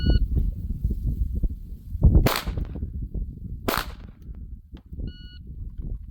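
Two sharp handgun shots ring out from behind cover on a 25-yard police qualification stage, loud and well separated, with a couple of short electronic timer beeps at the start and end.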